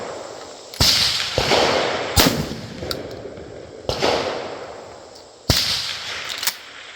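Mac 1014 shotgun firing Winchester 1200 fps shells: five loud, sharp blasts spaced about a second or more apart, each with a short echoing tail, no talk.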